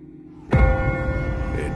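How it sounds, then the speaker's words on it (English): A church bell in The Walking Dead video game strikes once loud and near, its broad metallic clang ringing on with a long sustained hum and resonant overtones. "Ask not for whom the bell tolls."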